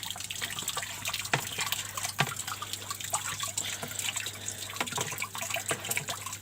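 Hydroponic nutrient solution being stirred in water, with steady liquid sloshing, trickling and dripping throughout and a few sharper splashes, close and continuous with a low constant hum underneath.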